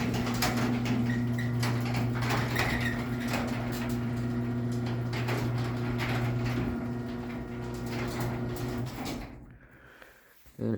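A Chamberlain 950 garage door opener lowers a Genie garage door, giving a steady motor hum with rattling and clicking of the moving door, then the drive cuts off near the end with a brief final clunk.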